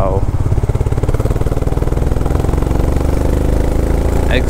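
A motorcycle engine runs at a steady, loud, close-up throb, its exhaust note chugging evenly throughout during a road ride in India toward Madikeri, with only a brief higher whine near the end.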